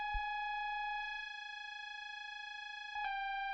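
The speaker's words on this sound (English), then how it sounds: "it's like this detune thing made with FM from different sine waves" A sustained FM-synthesized tone of stacked, slightly detuned sine waves, one pitched very high, hums steadily with a buzzy edge, briefly retriggered near the end with a soft click.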